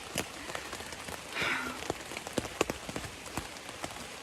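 Steady rain patters on a surface on the Appalachian Trail, with scattered louder drops tapping nearby and a brief rustle midway; no one speaks.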